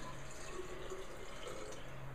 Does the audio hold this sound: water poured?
yes